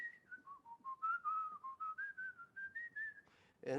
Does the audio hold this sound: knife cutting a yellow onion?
no